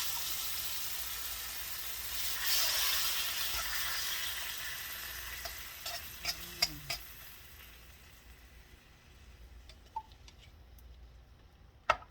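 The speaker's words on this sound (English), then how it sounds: "you can tell when your coconut milk is boiling like this" Coconut milk for Panang curry simmers in a pan, giving a steady soft hiss and bubbling sizzle with scattered small pops and utensil ticks, close up and gradually quieting, with no talking.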